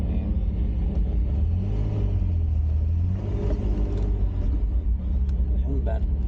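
A 1988 Pontiac Fiero's engine idles with a low, steady rumble close by while people chat over it.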